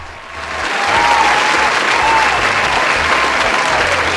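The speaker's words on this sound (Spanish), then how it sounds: "Eso se merece en verdad un aplauso de pie." Loud, sustained applause from a crowd, building in the first second and then holding steady as a dense wash of clapping.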